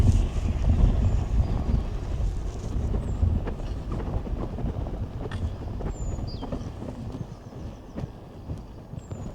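Strong wind buffets the microphone in a steady, heavy rumble, with gusts rising and falling and no voices.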